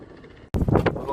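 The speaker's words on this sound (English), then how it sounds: "Oh, a big gust of wind's come up." A big gust of wind hits the microphone outdoors at a campsite being readied for a crowd around a fire, a sudden loud broadband roar that cuts in after a brief lull and keeps blowing strongly.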